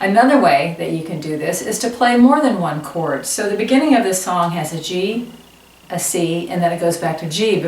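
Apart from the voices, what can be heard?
No everyday noise stands out behind the speech.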